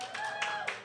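Audience clapping at a community center fundraiser evening, a brief stretch of scattered applause from a crowd heard at moderate distance over a steady room tone.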